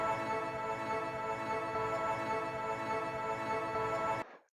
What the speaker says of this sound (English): First, you have this PEDALTONE sample,